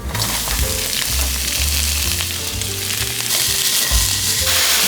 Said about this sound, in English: We're gonna start off with a little oil in the pan.